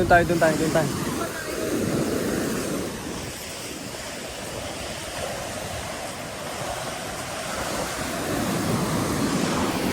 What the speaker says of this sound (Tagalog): Grabe yung alon, no?